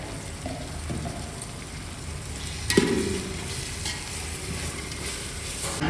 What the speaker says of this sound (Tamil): இப்போ அடுத்தது இஞ்சி பூண்டு பேஸ்ட் போட்டுருக்கோம்